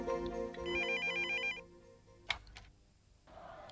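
An electronic phone ringtone plays a bright, repeating melodic pattern for an incoming call in a Hindi television drama, ringing clearly for about a second and a half before a short knock and quiet room noise.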